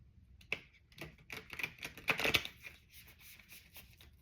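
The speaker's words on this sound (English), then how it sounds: "one more shuffle" Hexagonal oracle cards being shuffled by hand, a quiet run of soft riffling flicks and taps, close up and faint, with a busier burst in the middle and no voices.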